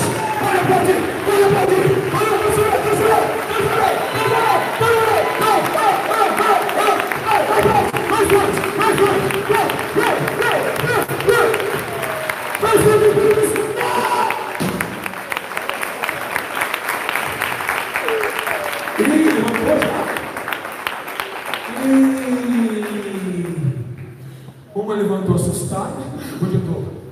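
Congregation applauding during an evangelical church service, loud clapping and crowd noise with cheering mixed under voices, sustained then breaking into scattered sounds and speech toward the end.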